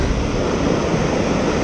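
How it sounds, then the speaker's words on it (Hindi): A mountain waterfall on a Himalayan trek roars in a dense, steady rush of white noise, loud and close throughout the short stretch, with no talking. "और बहुत ही सुंदर वाटरफॉल, वाटर स्ट्रीम, ब्रिज भी है यहाँ पे।"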